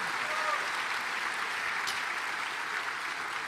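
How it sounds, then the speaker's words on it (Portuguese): Applause from a church congregation at a family conference honoring volunteers comes as a steady, even wash of clapping that continues throughout at moderate distance. "Dá um forte aplauso a Jesus por todos esses voluntários."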